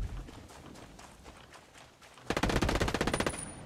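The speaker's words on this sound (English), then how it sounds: "Hostiles are shooting." Hostiles firing in the Ghost Recon Breakpoint video game: scattered single shots and footstep-like thuds, then a loud rapid burst of automatic gunfire lasting over a second.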